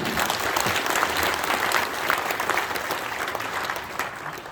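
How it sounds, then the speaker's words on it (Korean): Church assembly audience at a national elders' association meeting applauding to welcome former vice presidents, a steady, even wash of many hands clapping at moderate volume, sustained without speech. "자, 박수로 환영해 주시기 바랍니다."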